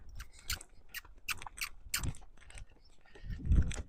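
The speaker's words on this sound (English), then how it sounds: "See him licking and chewing." A horse licks and chews up close: a series of crisp, irregular smacking and crunching bursts, fairly quiet, with a heavier thump near the end.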